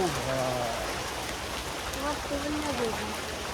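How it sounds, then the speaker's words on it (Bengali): Heavy rain falls steadily as a broad, even wash of noise throughout, with people talking in the background. "আজ খুব বৃষ্টি হচ্ছে, এখন সব ভেজা হচ্ছে।"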